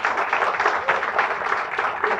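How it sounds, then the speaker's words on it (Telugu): Audience applause at a women's digital business group gathering in Visakhapatnam, a steady dense wash of many hands clapping throughout, fairly loud and continuous with no break. "clap hands for you all"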